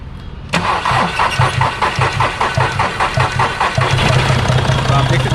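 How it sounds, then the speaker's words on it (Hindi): A Volkswagen Polo diesel with black smoke and low pickup cranks and catches after half a second, then settles into a loud, rhythmic, knocking idle that runs steadily to the end. "तो आप देख सकते हैं कार स्टार्ट हो चुकी है"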